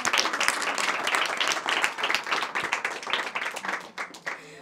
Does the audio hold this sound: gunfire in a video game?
no